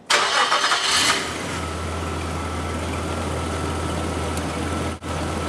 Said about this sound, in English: let's start the engine and see what we have